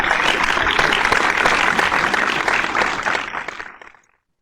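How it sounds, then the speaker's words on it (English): Massive round of applause for dedicated people on day 1 of DTAC2020, dense sustained clapping from a crowd that stays strong, then fades out near the end. "Let's give a massive round of applause to all of these dedicated people."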